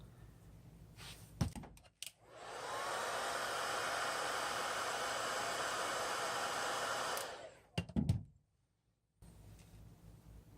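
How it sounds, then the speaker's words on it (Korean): A hair dryer blows steadily for several seconds, heating a skin being fitted onto an IQOS 3 device, bracketed by a few thumps and handling knocks before and after. "이런 이제 헤어드라이기를 가열을 해서 조여주시는 거죠"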